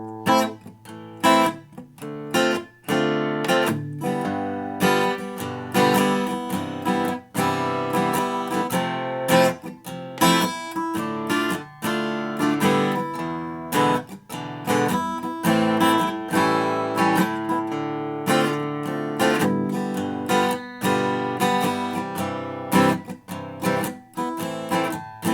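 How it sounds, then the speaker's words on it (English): Acoustic guitar strums through the chords of a song, a steady run of chord changes over about twenty-five seconds, played alone with no voice. "So basically what we're going to do is going to sound like this."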